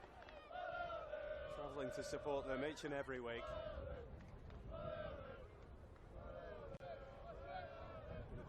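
Football supporters at an NPL Men's NSW elimination final between Rockdale Illinden FC and Blacktown City FC, their voices rising in sustained singing and chants from the stands, heard under a commentator talking throughout.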